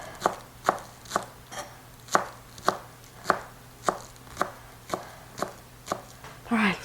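A knife chops green onions on a cutting board in a steady run of about a dozen crisp, evenly spaced knocks, close and clear, with a brief rustle at the end.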